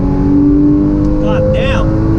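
A 2016 Porsche Cayman GTS accelerates hard along a straight, its engine note climbing steadily in pitch with a steady road roar underneath; a voice speaks briefly over it.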